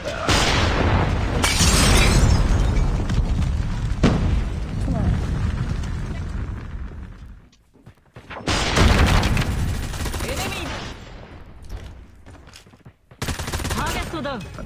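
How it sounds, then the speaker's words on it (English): Predator missile strikes in Call of Duty Mobile set off heavy booming explosions mixed with bursts of gunfire, loud and dense for several seconds, dropping briefly to near quiet before another roaring blast sequence, with voices talking over it. "Friendly Predator missile inbound."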